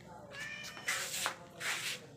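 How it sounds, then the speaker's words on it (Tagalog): A pet cat gives a few soft, drawn-out meows close by in a quiet room, each brief call rising and falling. "napakalambing po na pusa"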